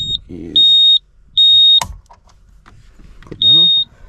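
A portable tyre inflator, used on a Toyota Prado's tyres at an outback reserve in the Northern Territory, gives several long, loud, steady high beeps when finished, with a sharp clunk and people talking between the beeps.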